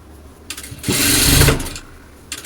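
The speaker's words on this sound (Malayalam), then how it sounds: "നമുക്കിത് മൊത്തത്തിലൊന്ന് നെക്ക് സ്റ്റിച്ച് ചെയ്തെടുക്കാം" Sewing machine stitching around a garment neckline, one loud steady run of about a second with lighter bursts before and after, up close with no talking.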